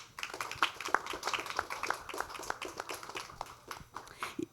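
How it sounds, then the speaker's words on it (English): An audience at a conference panel applauds the volunteers, a steady patter of many hands clapping that sounds somewhat distant and fairly soft. "So let's give them a big applause."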